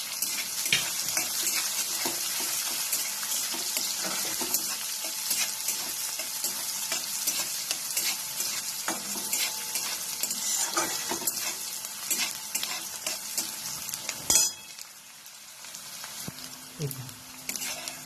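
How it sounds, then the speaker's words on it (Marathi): Onion frying with sesame seeds in a pan for mixed vegetable tikki, a steady loud hiss of sizzling oil with occasional stirring clinks, and a brief clatter near the end before the sizzle softens. "कांदा अशा पद्धतीने भाजायचा, जास्त लालसर करायचा"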